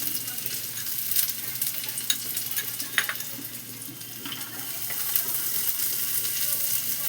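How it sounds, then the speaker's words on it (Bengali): Chopped onion frying in hot oil, with fish and red amaranth leaves on the menu, a steady moderate sizzle with scattered crackles and stirring scrapes throughout. "এইবার দেখো কুচনো পেঁয়াজ, কুচনো পেঁয়াজ দিয়ে দিচ্ছি।"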